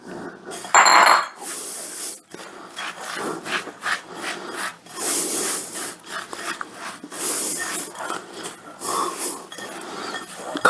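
Ingredients for a pineapple casserole are tossed with butter in a dish, giving repeated scraping and rubbing strokes of a utensil against the dish in uneven bursts, close and fairly loud, with no talking.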